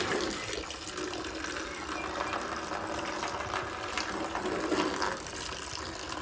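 Water from BMW windscreen washer jets sprays in a steady, hissing rush for several seconds, loud and close, with no voices.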